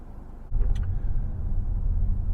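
A Mazda CX-5 with the 141-horsepower 2.5 Skyactiv engine drives along, a steady low road and engine rumble that swells suddenly after a brief quiet start, with a faint rattle early on.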